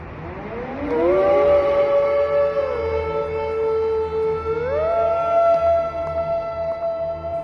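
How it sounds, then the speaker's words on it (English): A loud air raid siren in Ukraine wails steadily, its tone rising and then holding, pitch shifting upward again partway through, with no voices. "many Ukrainians live in unison with sirens and warnings."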